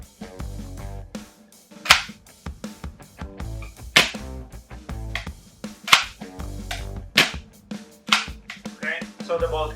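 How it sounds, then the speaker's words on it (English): Sharp snapping shots from a VFC SCAR-H airsoft rifle with an HPA conversion kit, several spaced cracks roughly every two seconds amid mechanical clicks, with someone talking over them. "we can drop in the magazine and basically take a couple of shots again"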